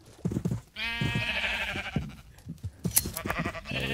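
A blocky sheep in Minecraft gives a drawn-out nasal bleat, followed by a few shorter bleats and clicky game sounds, close and clear with no talking.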